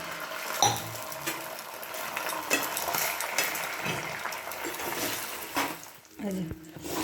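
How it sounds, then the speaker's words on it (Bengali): An egg fries in oil in a nonstick pan with a steady crackling sizzle, broken by scattered clinks and stirring noises. "এই যে ননস্টিকের উপরে তেল দিয়ে দেবো এবার কড়ার মধ্যে ডিমটা দিয়ে দেবো"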